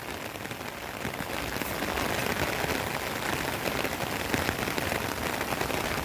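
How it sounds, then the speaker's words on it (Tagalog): Heavy, steady rain pours down during Typhoon Crising near the flooding Cagayan River, a dense, unbroken hiss close by with no pauses. "Delikado to kasi hindi pa tumitigil yung ulan."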